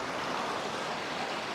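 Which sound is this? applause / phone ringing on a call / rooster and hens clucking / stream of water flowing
stream of water flowing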